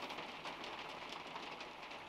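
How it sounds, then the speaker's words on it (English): Heavy rain pours down steadily as a dense, constant hiss of broadband noise, fairly loud and close, with no voices over it. "Oh my goodness, it's raining so hard."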